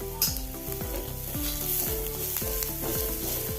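Turmeric is stirred into a frying tadka in a pan for Kerala-style tadka rice: strong close sizzling under a rhythmic series of spoon strokes scraping the pan, about one every half second.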